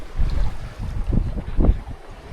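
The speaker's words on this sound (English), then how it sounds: "Engine's off." A sailboat under sail with its engine off, with steady wind buffeting the microphone and low rumbling water washing along the hull, loud and close.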